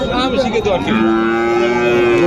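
A bullock lets out a loud, close moo, a long low bellow that starts after a brief rough note and holds steady to the end.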